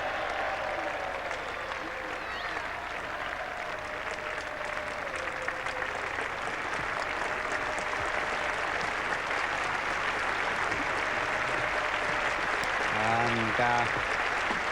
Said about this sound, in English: Big applause for the 50 partnership.